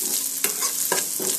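Onions frying in a pan for a Kerala raw banana peel thoran: continuous close sizzling broken by a few sharp stirring scrapes of a spatula, loud and without speech.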